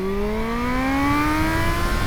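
A 2021 Kawasaki Z H2 engine holds a steady high rev against its launch control limiter, a loud continuous whine that edges slowly upward in pitch, close and alone.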